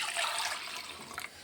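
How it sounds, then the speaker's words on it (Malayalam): Water pours into a cooking pot holding fish and green chillies in a home kitchen, a short, soft splashing trickle at close range with no voices. "വെള്ളം ഒഴിക്കട്ടെ."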